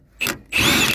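A ratchet clicks and grinds on a stuck bolt under a 1968 Mustang that sat for 30 years, close up, in two short bursts with no voices.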